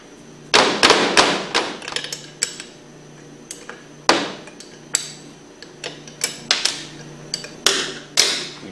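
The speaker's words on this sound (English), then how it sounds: "take your 1/2-inch wrench and remove these 4 bolts" A 1/2-inch wrench loosening four flange bolts on a Hypro hydraulic-drive centrifugal pump gives scattered, close metallic clanks and knocks in irregular bursts against a quiet background.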